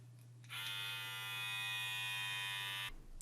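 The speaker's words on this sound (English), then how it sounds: "we're going to get our Wahl stainless steel trimmer all prepped" A Wahl stainless steel beard trimmer switches on with a sharp start, runs with a steady, close electric buzz for about two and a half seconds, then cuts off.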